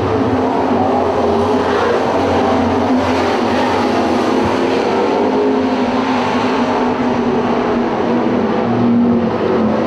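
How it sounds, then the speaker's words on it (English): Sprint cars race around a dirt track, their engines roaring loud and steady throughout with a dense, continuous drone and no break in the noise. "on the way out of turn 4, Ride got a little loose into 1"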